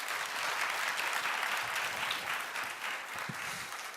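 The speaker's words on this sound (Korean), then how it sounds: "힘찬 박수 좀 부탁드리겠습니다" Steady, dense audience applause at a Korean tech conference presenting a business platform, filling the room evenly for several seconds without speech over it.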